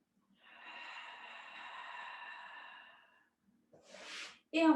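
One long, steady exhale of breath during a Pilates exercise lasts about three seconds, soft and close, followed by a short sharp breath and the start of a voice.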